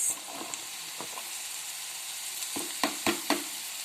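Cut small onions frying in a pan for mutton roast, a continuous sizzle with scattered crackles and a few louder pops toward the end.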